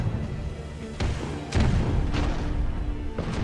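Cannon fire in the strategy game Rise of Nations, with several deep booms landing about a second apart over a steady low battle rumble.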